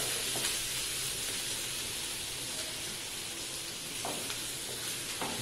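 Sliced onions fry with a pinch of salt in a pan for onion bhaji. They give off a steady, soft, close-up sizzle with faint crackles and an occasional stir, and no one is talking.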